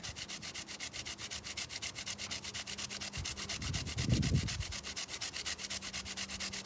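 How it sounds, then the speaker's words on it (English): Steady, close rhythmic scraping of sandpaper rubbed back and forth over a wooden table, even strokes repeating throughout with a brief low thump in the middle. "I don't know if I should just give up on sanding this."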